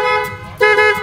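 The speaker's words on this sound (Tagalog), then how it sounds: "Kaya Roman, check busina." A motorcycle horn sounds in two honks during a test: a brief toot, a short pause, then a louder, steady blast lasting about half a second, close by.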